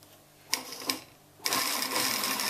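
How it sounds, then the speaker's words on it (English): A sewing machine stitches a concealed buttonhole placket with lining in two short bursts, then runs steadily to the end of the seam, close and fairly loud with no talking. "And I stitch all the way to the end."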